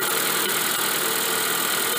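A European car's radiator fan motor runs with the air conditioning switched on, giving a steady, loud whirring hum with no break across the whole stretch.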